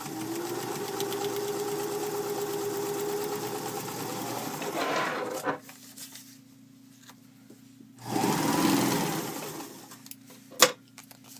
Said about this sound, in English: And I'm going to sew clear across,